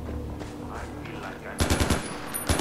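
Automatic gunfire in the video game Far Cry 4 erupts after a quieter stretch, a rapid burst of loud, punchy shots in a steady rhythm, with a second short burst at the end.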